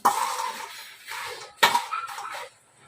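Fried chips being mixed with masala in a metal pan, a few short scraping and clinking bursts of spoon against pan, close and fairly loud, with no voices.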